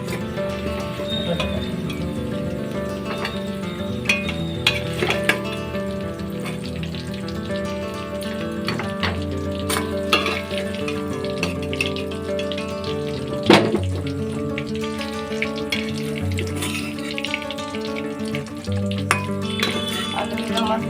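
Potatoes deep-fried in oil sizzle steadily and loudly throughout, with scattered clinks and scrapes as a ladle lifts the pieces out of the pan one by one.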